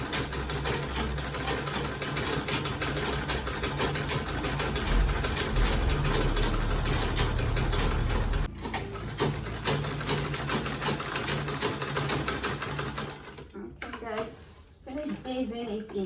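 A sewing machine basting the layers of a quilted tote bag with boxed corners, running in a steady fast stitch for several seconds before stopping, then a few brief clicks and handling sounds close by.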